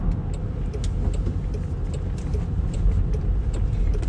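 A new Land Rover Defender drives along snowy Yorkshire moor roads, giving a steady interior rumble of engine and tyres with faint rattles and clicks throughout, with no talking.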